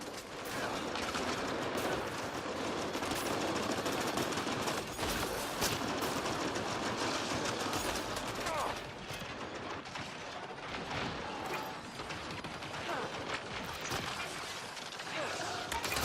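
Dense gunfire from Mass Effect: Andromeda multiplayer as a Grenadier soldier, with continuous loud rapid shots, bursts and crashing impacts, and voices calling out over the combat.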